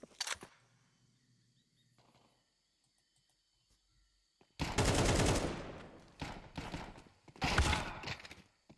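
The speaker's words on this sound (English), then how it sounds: "These pistols are doing a lot of damage" Pistol gunfire in a competitive team shooter match, with a faint click early on, then several loud bursts of rapid shots after a quiet stretch, and no speech.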